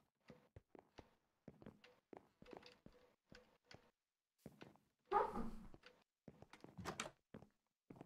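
Kenzie the dog shifting restlessly in a crate, making a run of irregular knocks, thumps and scratchy rattles with short pauses, plus one louder rustling burst, all faint and close in a quiet room.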